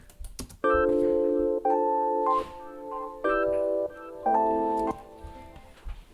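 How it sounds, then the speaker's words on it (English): A processed voice sings sustained notes chopped into abrupt blocks by a noise gate, each phrase cutting off sharply into near silence, giving a clipped staccato rhythm. "Now with the noise gate, it gives this like kind of staccato sound."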